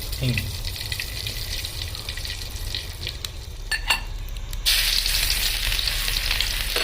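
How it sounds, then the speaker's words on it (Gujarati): Cumin seeds and asafoetida sizzle in hot oil in a home kitchen, a loud continuous frying hiss that swells sharply toward the end as more goes into the pan. "તો જો અહીંયા હું નાખું છું જીરું મારું તેલ ગરમ થઈ ગયું છે"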